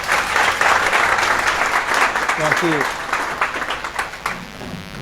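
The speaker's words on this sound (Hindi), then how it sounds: "और ताली बजाएंगे आप लोग" An audience at a talk on IAS exam preparation claps in sustained, dense applause for a few seconds, then thins out while someone speaks over it.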